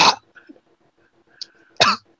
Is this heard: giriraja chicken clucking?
no